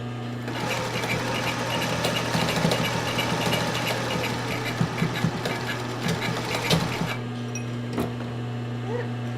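A sewing machine stitches a sports bra in one continuous fast whirring run with a steady hum and rattling needle, close up, stopping briefly near the end before starting again.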